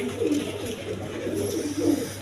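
Quality pigeons kept for sale coo in low, soft, rolling phrases that repeat a few times over a steady background hum, with no clear speech.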